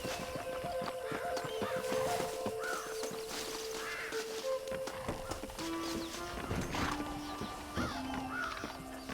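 Stagecoach horses in the video game Red Dead Redemption clip-clop along at a steady walk, with bird caws and sustained tones running through the scene.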